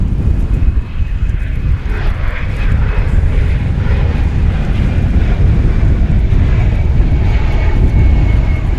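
A TWA-liveried airliner passes at DFW Airport with a loud, continuous low engine rumble, roughened by gusts of wind against the microphone, with no talk over it.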